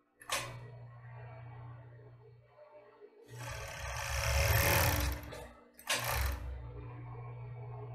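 A sewing machine stitches lace onto a child's underwear in short, buzzing runs. A long, louder burst sits in the middle, with quieter motor hum and pauses between the runs, close up and with no talking.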